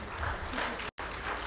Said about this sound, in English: A round of applause as they give,